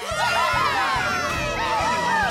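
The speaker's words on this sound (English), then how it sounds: "Please give a round of applause to our team who rebuilt the road." An animated crowd of vehicle characters cheers for a road-rebuilding team, excited voices and shouts rising and falling in a lively, continuous burst at close range.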